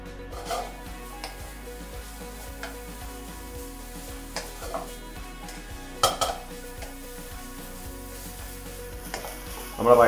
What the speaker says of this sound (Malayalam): നിങ്ങൾ കൂടി നല്ലോണം മിക്സ് ചെയ്തെടുക്കാം.